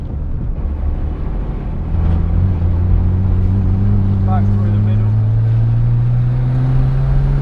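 A Nissan Skyline GT-R34 engine drones loudly on a race track, its pitch climbing steadily under acceleration down a straight, with someone commentating over it.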